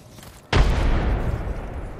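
A frag grenade goes off in the Apex Legends video game: one sudden heavy blast breaks a quiet moment, then a deep rumbling tail fades out over about a second and a half.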